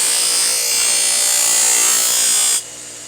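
A knife is ground on a Slicing Edge powered sharpening system, a loud, steady high-pitched whirring grind that cuts off abruptly near the end, leaving only a faint hum.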